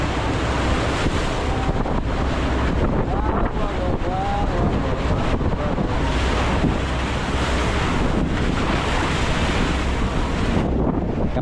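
Rough monsoon sea at open water aboard a boat: loud continuous roar of wind buffeting the microphone over crashing, churning waves, sustained and close with no letup.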